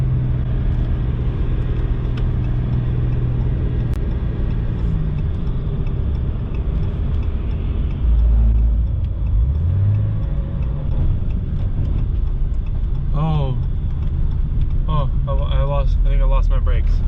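A Ram pickup truck engine struggles and seems to lose a gear while slowing, giving a steady loud low rumble throughout, with a person talking over it near the end.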